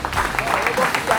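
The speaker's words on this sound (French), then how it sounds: "on applaudit le président." Audience at a football club awards ceremony applauding the club president, dense steady clapping mixed with crowd murmur and voices throughout.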